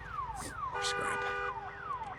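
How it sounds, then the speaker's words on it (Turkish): A zombie-attracting alarm from the Days Gone video game blares continuously, its repeating falling siren tones sweeping down over and over, loud and steady with game noise underneath. "Bunların yanına gelip E'ye basılı tutup alarmı kapatabiliyorsun."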